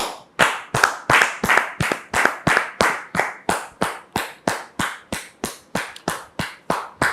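Rhythmic clapping for a guest being welcomed on a set: a steady beat of sharp, close hand claps, about three per second, that continues evenly with no voices over it.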